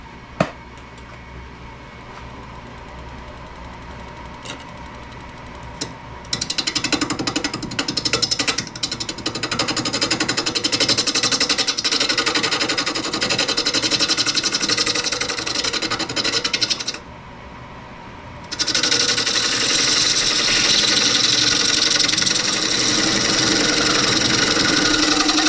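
A wood lathe spins a workpiece while a tool cuts a tenon, a loud, rough grinding roar that starts after a quiet motor hum, drops out briefly midway, then resumes strongly.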